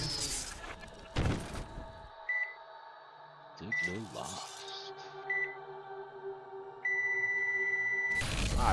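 Electronic beeps from the cyberpunk video game Ruiner: several short tones, then a sustained flatline tone near the end, mixed with game effects and synthetic sounds, with someone talking at times.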